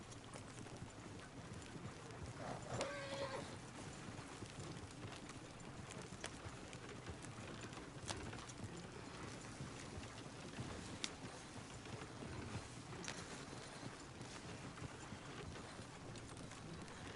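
Horse hooves in Red Dead Redemption 2, a fairly quiet, steady stream of clip-clopping beats running throughout under a busy, noisy game background.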